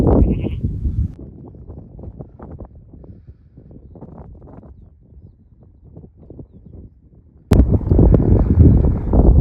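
Sheep bleating out in the open beside Hadrian's Wall, a run of close, rough bleats over gusting wind on the microphone, ending in a sudden loud burst of wind rumble.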